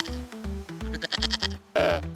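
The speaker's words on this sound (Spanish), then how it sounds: "Esta es una cabra." A goat bleats in a rapid run of wavering, nasal cries followed by a louder closing call, close and clear with no voices.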